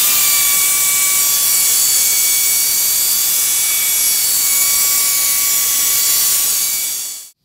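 Continuous high-pitched whirring and grinding of a power sanding tool working a headlight lens with 3000 grit, loud and steady, cutting off abruptly at the end.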